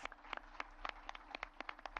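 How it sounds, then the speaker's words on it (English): An audience applauds faintly at a public service leadership forum, with scattered, uneven hand claps from a modest crowd heard at a distance, steady for two seconds. "I think that deserves a round of applause."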